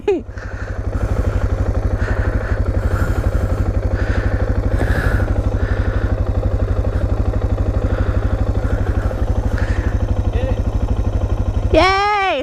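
Motorcycle engine running steadily at a fast, even idle throb, loud and close for the whole stretch, while people talk over it now and then.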